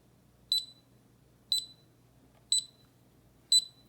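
An alarm clock sounds four short, high beeps at an even one-second pace, close and clear over a faint background hum.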